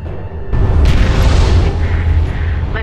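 An orbital weapon fires in Homeworld: Deserts of Kharak, a heavy sustained booming blast that swells in after a quiet start and rumbles loudly for a couple of seconds.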